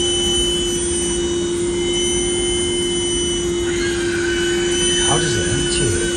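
A suction pump emptying a campervan toilet cassette, heard as a steady, loud mechanical drone like a hoover running throughout, with a shifting whine near the end.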